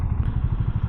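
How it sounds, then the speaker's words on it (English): A BSA Goldstar 650 motorcycle engine running at idle, a loud, close, rapid low thumping pulse with a mechanical clatter, heard alone without talk. "It's a very nice engine."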